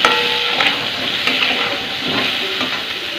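Boiled potatoes fry in oil in a covered pan, giving a loud, steady close sizzle with faint scraping ticks and no speech.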